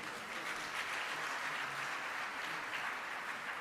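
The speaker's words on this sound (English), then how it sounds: "A round of applause for Dr." At a geopolitics conference, an audience applauds the panelists with steady, dense clapping from many hands, faint and distant-sounding, with no talking over it.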